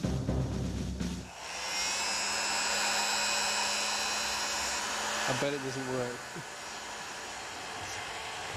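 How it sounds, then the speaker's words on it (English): Hair dryer blows with a loud, steady whoosh while heating a tight aluminium pulley for fitting on a model helicopter build. It runs for several seconds, then cuts off, and someone speaks briefly. "Anybody got a hairdryer?"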